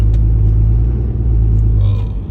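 A car engine on black ice at -27°C, unable to climb a hill, gives a steady heavy low rumble with a faint rising rev near the end, loud and close from inside the vehicle.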